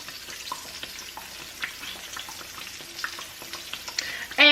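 Green tomato slices fry in canola oil, a steady bubbling sizzle with small crackles and pops throughout, close and fairly quiet with no talking.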